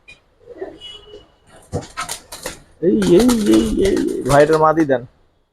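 Giribaz pigeons coo in low, throaty, repeated calls close by, with rustling and other noises mixed in.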